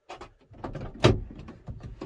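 The door of an Explorer conversion van opens with a close latch clunk and a rattle, surrounded by a few soft knocks and handling noises.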